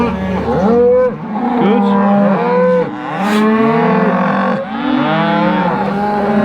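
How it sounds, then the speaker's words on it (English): A large herd of cattle, cows with their calves, moos repeatedly and loudly at close range, many overlapping calls layering into a continuous bellowing chorus as the animals are driven into a field. "Big group of cattle really."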